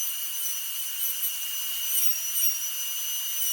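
A Dremel rotary tool fitted with a diamond burr carving wood, giving off a steady, high-pitched whine that holds evenly throughout without pauses.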